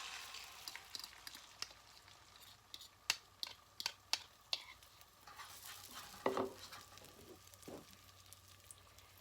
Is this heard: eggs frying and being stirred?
yes